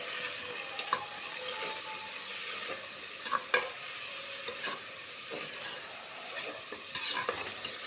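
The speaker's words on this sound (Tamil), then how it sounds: "வெங்காயத்தை போட்டு நல்லா வதக்கிட்டு" Long-sliced onions with chopped green chillies sizzling steadily in a hot pan, with a spoon scraping and stirring in brief clinks over the continuous frying hiss.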